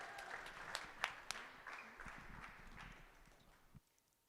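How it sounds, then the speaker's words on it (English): An audience at an investment pitch night applauds the first presenter, a burst of scattered clapping that thins out and stops near the end. "Round of applause"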